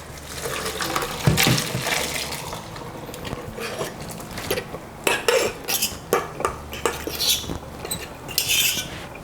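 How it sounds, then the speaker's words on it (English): Cooked spaghetti is drained at a kitchen sink in a Varoma dish, with clattering metal and dish clinks, water splashing and running, and scraping as the pasta shifts, loud and close. "come on over to the sink with our Varoma dish, and we are going to drain the pasta"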